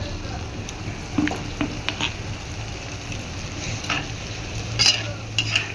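Minced meat frying in a pan as spice-rinse water is poured in, a steady crackling sizzle with scattered stirring clatters and brief spits, moderately loud and close.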